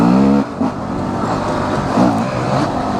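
Honda CRF250X dirt bike with airbox mod, jetting and stock exhaust being ridden, loud close engine note rising and falling as the throttle opens and eases.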